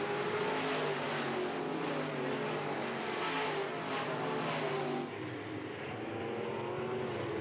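IMCA Sport Mod race cars circle a dirt speedway, their engines a loud continuous roar that rises and falls slightly as the pack works down the straight, briefly easing near the end.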